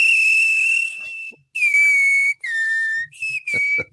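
A person whistles a tune, clear pure sustained notes in several phrases with short gaps between them, loud and close with no other sound.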